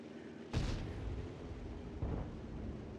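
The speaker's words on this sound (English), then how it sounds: "So that's all the artillery over here" Two artillery shots in World of Tanks, each a sharp booming blast followed by a rumbling tail, the first louder and the second about a second and a half later, over steady background game noise.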